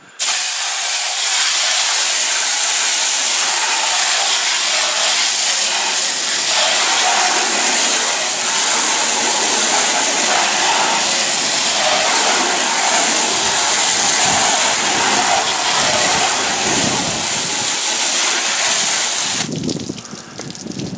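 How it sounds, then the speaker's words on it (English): Small water nozzle, not a power washer, rinsing bugs off the front of an RV, producing a loud, steady spraying hiss that runs unbroken for about twenty seconds before easing off at the end. "I'm just going to rinse it off with this little nozzle here, right? Not even a power washer."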